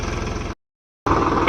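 An idling tractor engine runs close by with a steady, low, rumbling chug, drops out to complete silence for about half a second, then resumes at the same level.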